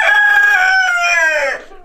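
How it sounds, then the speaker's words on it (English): Roosters crowing on a farm, a loud, close, sustained crow with layered calls overlapping, then fading quickly at the end. "But these roosters, like now, they're crowing like crazy."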